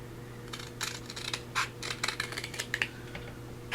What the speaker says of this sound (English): So we're going to go ahead and cut this side open.